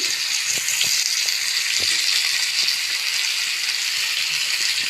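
Chopped tomato and ginger fry in a pan with mustard and cumin powder, a steady wet sizzle with scattered soft taps and stirring knocks throughout.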